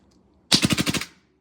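A repainted WE Glock G26 or G35 airsoft pistol fires a quick burst of about eight rapid, evenly spaced shots, loud and close, alone after a moment of quiet.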